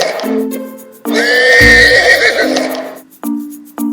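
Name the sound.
horse neighing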